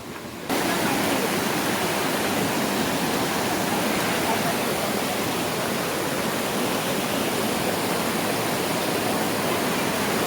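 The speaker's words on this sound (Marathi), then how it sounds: "हे बघा किती भारी धबधबा आहे." A waterfall at Malanggad roars as a dense, steady wash of rushing water that starts abruptly and holds loud and unbroken for about ten seconds, with no clear speech.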